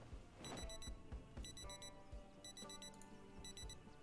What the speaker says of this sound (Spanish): El reloj tiene alarma.